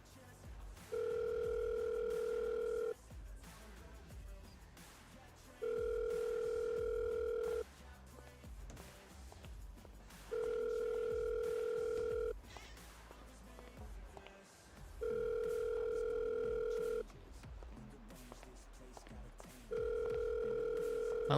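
Telephone dial tone in a GTA roleplay game: five steady, loud tone bursts of about two seconds each, evenly spaced with short gaps, over faint background noise.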